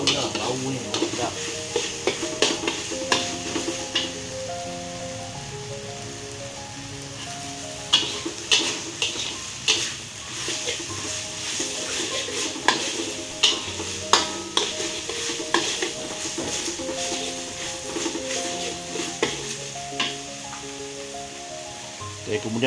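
Chili and turmeric frying in oil in a pan for rendang, with continuous sizzling under repeated scraping and stirring strokes of a utensil against the pot, steady and close.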